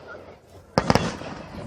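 Fireworks at a fair crackle and pop in a quick burst of three sharp reports at a moderate distance, set against steady background crowd noise.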